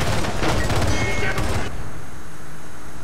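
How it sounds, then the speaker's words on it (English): SMG that looks like an M4 CQB firing in Homefront: a dense, loud burst of rapid automatic shots for about a second and a half, then cutting off into quieter ambience. "Now here I'm testing out that SMG I picked up earlier, which looks like just an M4 CQB."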